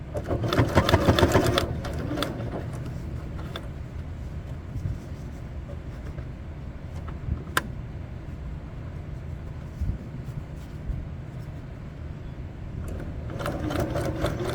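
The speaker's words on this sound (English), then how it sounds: "It's going to sound thick because you're sewing through so many layers." A sewing machine stitching through many thick layers of a backpack runs steadily with a dense, rapid mechanical chatter, heavier bursts at the start and end, with no voices.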